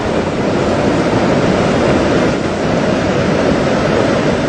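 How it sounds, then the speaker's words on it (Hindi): A flooded Tawi river surges through Jammu in a steady, loud, broadband roar of rushing water, unbroken and continuous with no voices over it. "जम्मू में तवी नदी का उफान डरा रहा है"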